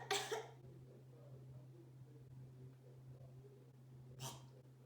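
A single sharp cough opens the moment, followed by a quiet room with a steady low hum, then a brief second cough-like burst near the end.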